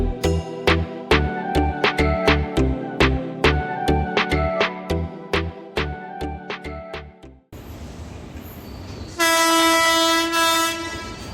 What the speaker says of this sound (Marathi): एक ट्रेन भेटली, मडगाव एक्सप्रेस